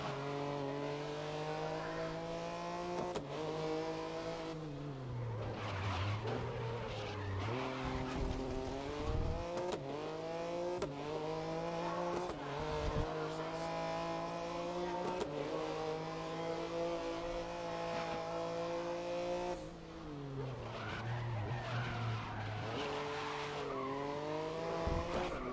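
Race car in the video game Grid 2019 held at full throttle, its engine drone loud and continuous, climbing and dropping through gear changes, with occasional tire squeal in the corners and someone talking faintly now and then.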